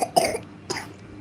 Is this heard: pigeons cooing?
no